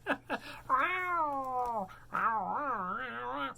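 A pet cat meows at close range: two short chirps followed by two long, drawn-out wavering meows, loud and clear over a faint low hum.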